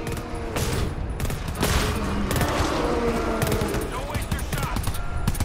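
Rapid gunfire in the video game Valorant, with dense volleys of loud shots and sharp cracks that keep going without a break.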